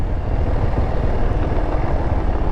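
A quad bike's engine roars during a wheelie at an outdoor compound, a loud, close, low rumble that stays steady and unbroken, with no voices.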